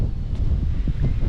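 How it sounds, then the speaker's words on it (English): Strong gusting wind over Melvern Lake in Kansas during a bass fishing tournament, a loud, low buffeting roar hitting the microphone in uneven bursts, close and without talk. "We're sitting at like 15, 17 mile an hour with 25, 27 mile an hour gusts"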